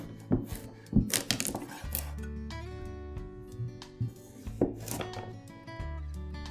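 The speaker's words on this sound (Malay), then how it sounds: "Mula-mula kita potong carrot dulu." A knife chops a carrot on a board for tom yam fried rice vermicelli, a few sharp, close chops standing out over steady background music.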